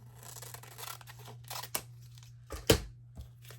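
A few crisp snips and rustles of scissors cutting paper, close by, with short sharp bursts spaced irregularly over a quiet background hum.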